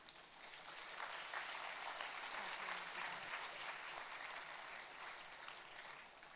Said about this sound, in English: Please join us in a big round of applause to invite them to come onto the stage.